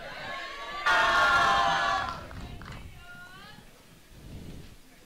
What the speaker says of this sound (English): So now you can hear some of the fans are cheering up their fellow teammates.